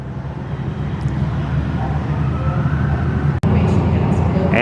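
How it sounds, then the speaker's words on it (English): Recorded propeller airplane engine sound played in an aircraft exhibit at the National Museum of the US Air Force in Dayton, Ohio: a steady, loud droning rumble fills the space throughout, briefly cutting out once near the end before resuming. "they also have sound as if the airplane's actually running"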